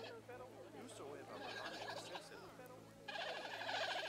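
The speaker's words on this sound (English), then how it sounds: "It's the panda making the noise!" Panda vocalizing in the Planet Zoo video game, a string of wavering bird-like gobbling calls repeating steadily for several seconds and growing louder toward the end, with no talk over it.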